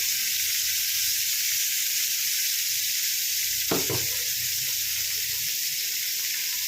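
Parshe fish fry in oil in a nonstick pan, a steady loud close sizzle throughout with a brief bubbling flare midway, no talk.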